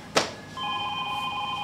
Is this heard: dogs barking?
no